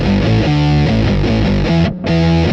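Fuzzy octave bass tone from an MXR Poly Blue Octave pedal run into a guitar amp, a thick, buzzing sequence of stepped synth-like notes with a short gap near the end, loud and alone.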